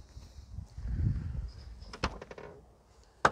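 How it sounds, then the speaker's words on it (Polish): An Opel Calibra's car door is handled up close: a low muffled rumble, then a run of sharp latch clicks and a final loud clack, fairly quiet overall with no talking. "Otwórzmy może, Norbert, drzwi"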